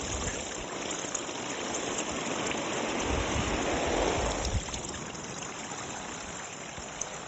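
Steady rush of water spraying from an outdoor 67-inch splash pad pool and pattering onto its plastic surface where it collects, a continuous close hiss of droplets with no talk.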